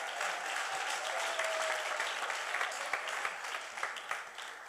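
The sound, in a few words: church congregation applauding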